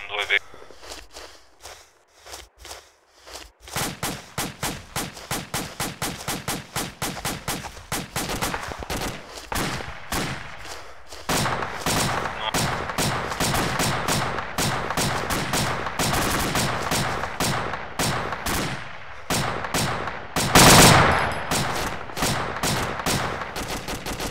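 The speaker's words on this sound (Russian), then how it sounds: "Пулемет" A machine gun in ArmA 2 rattles off long rapid bursts of close, loud fire with brief pauses between strings of shots, mixed with footsteps and occasional voices, and one heavier blast near the end.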